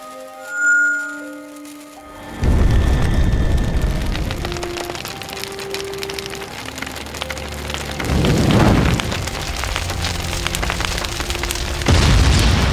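A huge animated explosion erupts after a moment of quiet, swelling into a loud, sustained roaring rumble that surges again in heavy bursts.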